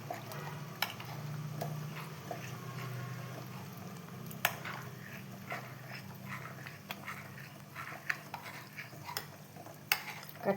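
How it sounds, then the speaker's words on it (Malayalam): A spoon stirs rice flour into coconut milk in a bowl, giving soft, quiet swishing with occasional light clinks of the spoon against the side, up close and with no talking. "ഞാൻ തേങ്ങേൻ്റെ പാലിൽ അരിപ്പൊടി ചേർത്ത് സ്പൂൺ കൊണ്ട് ഇളക്കിയിട്ട് ഒഴിച്ച് കൊടുക്കുന്നുണ്ട്"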